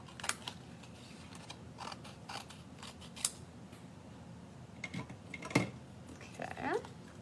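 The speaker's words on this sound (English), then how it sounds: "I'm gonna take my paper scissors and trim this down." Paper scissors trim a crafting sheet in a quiet room, with several faint, crisp snips and creaky blade sounds spaced irregularly and picking up near the end.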